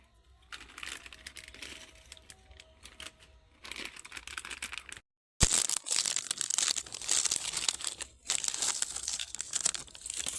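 A Lay's chips packet crinkling loudly up close as the chips inside are crushed by hand, with dense, crackly rustling in long bursts broken by a few short pauses.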